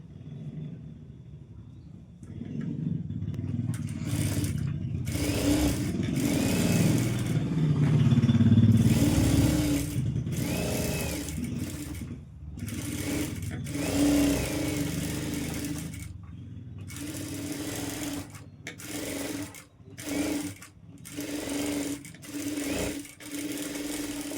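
A sewing machine stitches a boat-neck princess-cut designer blouse, running in steady bursts with brief pauses, its motor whirring and clattering close by with no talk.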